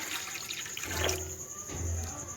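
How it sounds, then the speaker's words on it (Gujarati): Water is poured into an idli steamer pot, a steady close splashing and trickling stream that rises and falls over a couple of seconds. "ઇડલી બાફવા માટે આપણે પાણી નાખશું અંદર"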